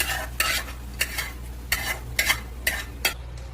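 Ingredients roasting in a little oil for a village-style chicken curry, with regular scraping stirs of a spatula against the pan about every half second over a steady low hum, close and fairly loud.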